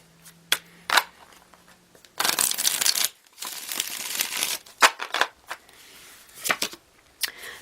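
Tarot cards are shuffled by hand in a quiet room, with a few sharp single snaps followed by two longer riffling bursts and more light taps near the end.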